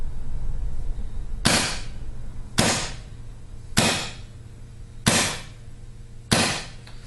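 An Empire Axe paintball marker dry-firing with no paint loaded, five sharp loud cracks spaced evenly about every second and a quarter, each with a brief decaying tail over a low background hum.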